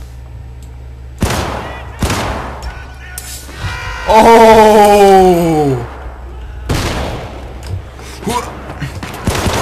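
Gunfire in the Syndicate shooter on PC, a few sharp loud shots spaced apart with a brief synthetic tonal sweep in the middle, while someone talks and exclaims over it.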